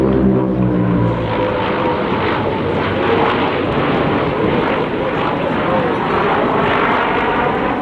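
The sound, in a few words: aircraft flying an aileron roll at airshow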